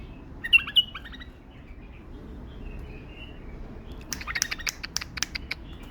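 A pair of tame bulbuls chirps in short bright bursts, a couple of calls near the start, then a rapid run of sharp chirps toward the end, fairly close over a low background hum.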